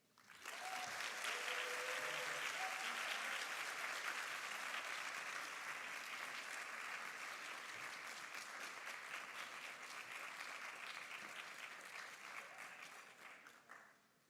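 A university student leadership awards audience breaks into sustained, loud applause for the winner of a customer service award, rising quickly and holding steady before tapering off near the end.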